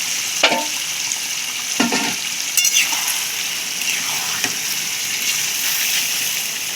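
Large marinated chicken leg pieces fry in oil in a pan for homemade chicken biryani, a loud continuous close sizzle broken by a few scraping stirs and clatters of the spoon, with no voices.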